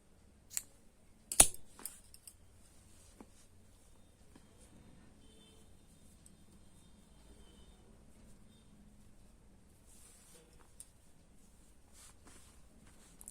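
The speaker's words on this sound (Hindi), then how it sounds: "धागा को हम यहीं से काट लेंगे।" Scissors snip through woolen thread while making ladies' socks: a couple of sharp, close cutting clicks near the start, then quiet handling and faint rustles in a still room.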